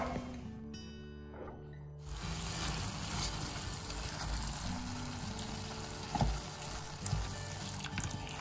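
Prawns cooking in a pan with gongura sorrel leaves, a soft steady sizzle and bubbling hiss after a quiet start, with a few faint clinks of stirring.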